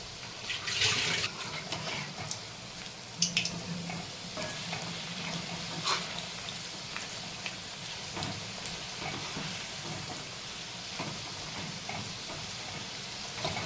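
Bhaji fritters frying in hot oil give a steady, moderate sizzle with occasional crackles and stirring clinks, no voices over it.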